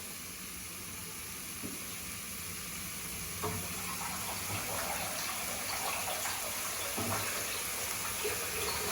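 Water pours steadily into a pot for cauliflower peas pulao, a hissing, rushing splash, a continuous stream filling the vessel, fairly quiet and close.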